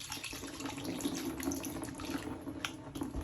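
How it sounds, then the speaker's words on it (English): Water poured into a bowl while preparing yellow corn agidi (eko), a steady close splashing stream running throughout with a few brighter drips and splashes near the end. "I'm supposed to put water in the bowl."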